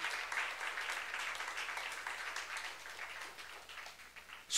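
A church congregation claps together during a youth service sermon, a dense, moderately distant patter of many hands that holds steady and then slowly thins.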